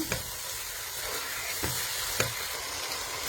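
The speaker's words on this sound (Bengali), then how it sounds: "এই তো এখানে বিনস আছে, টেন্ডারস্টম ব্রকলি যেটা, আর মাশরুম, তাই দিয়ে দিলাম।" Beans, tenderstem broccoli and mushrooms fry in a hot pan with a steady sizzle, broken by a few sharp stirring clicks near the microphone.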